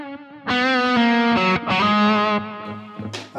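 An electric guitar played through a Boss GT-1000 multi-effects unit with reverb rings out in sustained, bright chords and notes, loud and close, with no talking.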